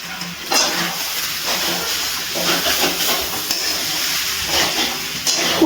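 Echor chingri, a jackfruit and prawn curry, sizzles and hisses steadily in a pan over a low gas flame, a continuous frying texture with faint stirring scrapes and no talk.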